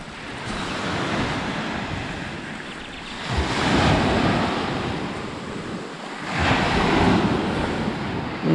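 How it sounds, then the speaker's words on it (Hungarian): Strong ocean waves break on Ammos Beach in Greece, with a loud continuous roar of surf swelling in two big surges, close and alone with no talk. "milyen erős a hullámverés"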